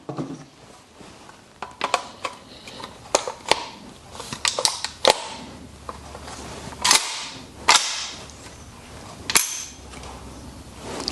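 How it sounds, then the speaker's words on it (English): A GHK AK airsoft rifle has its action cycled during a function check, producing a series of sharp, close metallic clacks and snaps at irregular intervals, some in quick pairs, with no talking. "At this point, we can check function and make sure that our rifle is good to go."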